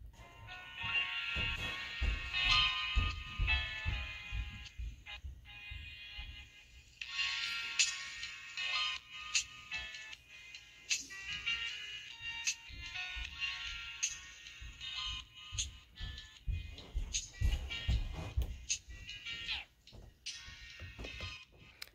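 Loud, bass-heavy music plays continuously at max volume through Knockies KP1 earbuds held close, with punchy low thumps and bright treble, no voices.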